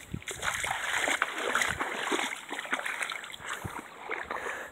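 A dog splashes about while playing in water, a continuous busy splatter and sloshing with some sharper splashes, close and fairly loud throughout.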